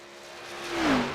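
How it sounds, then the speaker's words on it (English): A NASCAR Xfinity Ford Mustang V8 in a racing video game at Talladega revs up, its engine tone climbing and swelling louder toward the end of a short burst, heard alone without speech. "Enjoy the nice raw V8 sound from Ford."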